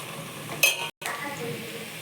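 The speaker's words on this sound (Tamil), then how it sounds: "டபராவில் எண்ணெயும் நெய்யும் ஊற்றி வெங்காயம் போட்டு நல்லா கோல்டன் ப்ரௌனில் வதக்குங்க." Onions fry in oil and ghee in a pan, giving a soft steady sizzle close by, with a brief stir and clink of a utensil partway through and a short cut in the sound.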